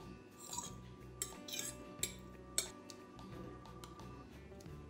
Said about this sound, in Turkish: Şimdi hepsini bir kapta karıştıralım.